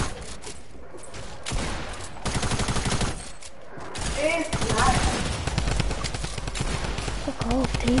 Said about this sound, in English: Jesus, that shot scared me.